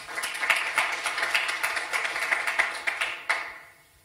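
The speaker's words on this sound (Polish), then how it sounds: "bardzo proszę o brawa, składamy ogromne gratulacje" Audience clapping at an award ceremony, a steady patter of many hands that swells, then tapers off and ends abruptly into quiet.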